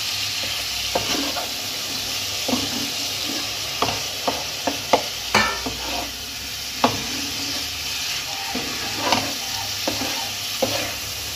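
Prawns sizzle steadily in a pan with spice paste while being stirred for prawn malai curry, with scattered sharp scrapes and clacks of the spoon over the continuous frying hiss.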